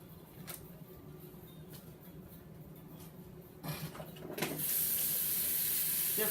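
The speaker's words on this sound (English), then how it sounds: "I need to wash my spoon." A spoon is washed under a running kitchen tap during home baking. A low, quiet room hum and a few soft clinks come first, then the water rushes on and holds a steady, hissing stream to the end.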